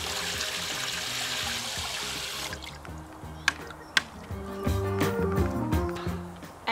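Chlorine-free, pesticide-free water pouring into a worm tea brewer, a steady splashing trickle that gives way to gurgling, dripping water with a few sharp knocks near the end.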